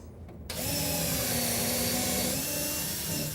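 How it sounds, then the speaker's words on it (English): A power drill pre-drills screw holes while a wooden face-frame cabinet is installed, starting abruptly after a faint moment and whirring loud and steady at close range. "we're going to pre-drill for our screws"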